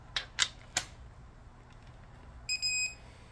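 A digital torque wrench set to 30 foot-pounds, used on an LS 5.3 engine rebuild, gives a few short clicks and then a shrill electronic beep in two quick pulses near the end, close by and fairly quiet.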